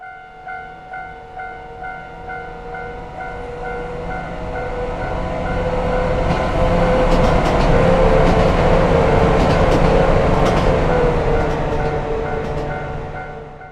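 An HR1100 train runs in the Unreal Engine 5 train game Running Train, a steady rumble with rhythmic wheel clicks early on, swelling louder as it rolls past with an ongoing tonal hum, no voices.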